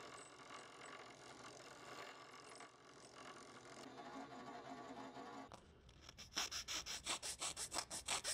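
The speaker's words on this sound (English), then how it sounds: "Now I'm going to drill out the slot, and the bolt is a quarter inch, but I'm going to be using a" A drill with a 5/16 bit boring out a slot in a small pocket bevel gauge: steady grinding whir for several seconds, then a change to a rapid, evenly pulsing rasp that ends the clip.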